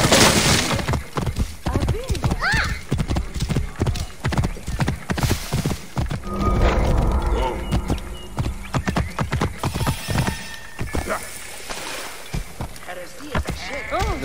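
Horse hooves clip-clop in a rapid gallop with occasional whinnies while riding and jumping in the Assassin's Creed Origins video game, set against steady game ambience and someone talking over it.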